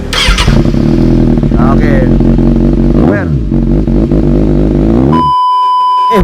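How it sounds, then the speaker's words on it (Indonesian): A Yamaha NMAX 155 scooter with a Tridente 3-sound aftermarket exhaust, idling with a loud, close, throbbing drone and brief revs, with someone speaking over it before it cuts off and a short electronic beep follows. "kali ini knalpotnya sudah jadi seperti ini bunyinya"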